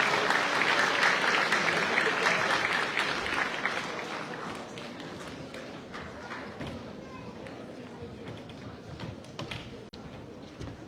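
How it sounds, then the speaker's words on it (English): An audience at an Islamic lecture gathering welcomes a speaker with dense, full applause that starts loud and slowly fades over several seconds. "Give him a big round of applause"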